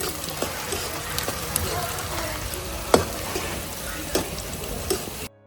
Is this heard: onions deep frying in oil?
yes